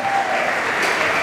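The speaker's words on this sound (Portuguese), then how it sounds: "Applaudissons la parole de Dieu." A church congregation at an international conference in Angola applauding, a dense, steady wash of clapping from many hands, loud and close, with no talking.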